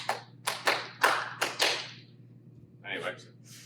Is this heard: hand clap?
yes